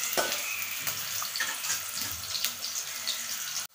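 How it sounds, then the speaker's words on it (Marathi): Finely chopped onion sautéing in a large spoonful of oil for Malvani chicken curry, a steady close sizzle with light stirring clatter throughout. "ह्याच्यामध्ये 1 मोठा चमचा तेल घेऊया। आपण बारीक चिरलेला कांदा टाकूया,"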